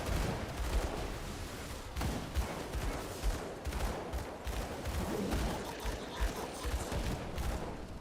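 Gunfire in the action game Grim Dawn, rapid overlapping shots and impacts in a dense ongoing barrage, moderately loud amid battle noise.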